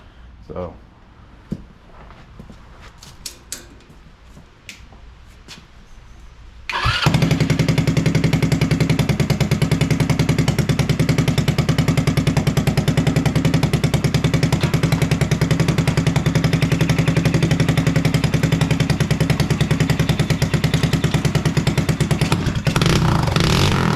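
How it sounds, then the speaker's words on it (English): A motorcycle engine fired up with only half of its exhaust fitted, starting after a few quiet knocks and clanks and then running loud and steady, close to the mic, for the rest of the clip. "So we're just gonna go ahead and fire it up again, put the exhaust, half the exhaust on."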